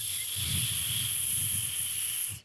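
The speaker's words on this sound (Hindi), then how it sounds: "दूसरे दिन चिड़िया नदी पर पानी पी रही थी कि वहाँ नागू सांप आ जाता है।" A cartoon snake hisses in a long, steady, breathy rush with a low rumbling undertone, loud and close, cutting off abruptly at the end.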